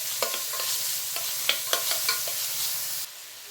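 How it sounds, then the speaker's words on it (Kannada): Chopped onions fry in hot oil for an okra gojju while a spatula stirs them, giving a steady close sizzle broken by sharp scraping clicks, ending in a quieter hiss. "ಚೆನ್ನಾಗಿ ಫ್ರೈ ಮಾಡಿಬಿಡೋಣ ಈರುಳ್ಳಿನ. ಈರುಳ್ಳಿ ಚೆನ್ನಾಗೆ ಫ್ರೈ ಆಗಬೇಕು."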